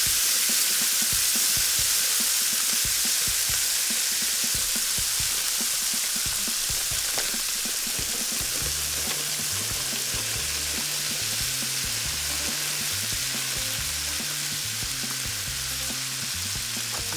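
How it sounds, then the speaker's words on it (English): Cold frozen corn kernels frying in hot oil for Mexican street corn, a loud continuous hiss and crackle that runs unbroken, with a low tonal hum joining partway through. "Now you're going to cook this corn until it's about charred?"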